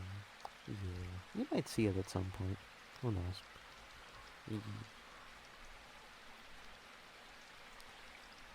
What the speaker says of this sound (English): This rain is pretty nice, you know?